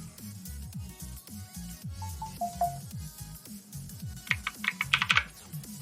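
Computer keyboard keys tapped in quick irregular bursts, close and moderately loud, with sharper clustered clicks near the end over a steady low background hum.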